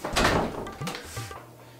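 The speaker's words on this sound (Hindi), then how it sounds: "आप दरवाजा तो बंद कीजिए।" A household door pushed shut at home, a short muffled thump and rattle followed by a softer bump and a low creak, close by and with no talking.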